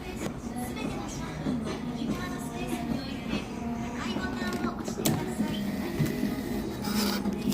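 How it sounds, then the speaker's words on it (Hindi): A self-checkout cash machine in a Japanese store prints an official receipt, giving a steady mechanical rasping whir over busy shop ambience with faint background voices. "print official invoice"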